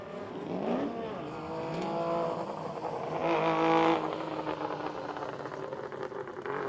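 A Nissan S14 and a Mazda RX-8 at a drift competition rev hard and loud, their engine notes rising and falling in sweeping pitch as they run close by over several seconds.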